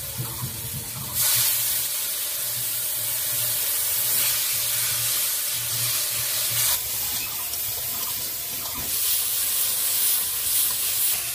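Water poured into a pan of frying chilli for a thin fish curry hits the hot oil with a loud hiss, then settles into steady sizzling and bubbling, with a second splash of water later.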